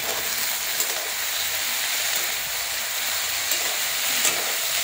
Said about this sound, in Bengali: ভেজে ভেজে নেব।